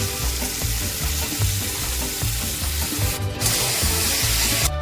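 Okra coated in salt and turmeric fries in oil, giving a dense, steady sizzle and spattering hiss close up with stirring scrapes, plus two brief bursts of sharper spitting; nobody speaks.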